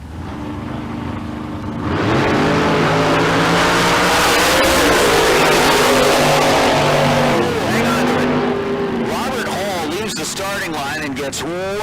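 Drag race cars launch at Tucson Dragway during a bracket race, a loud engine roar building fast and holding steady with shifting pitch, then easing as another engine revs sharply near the end.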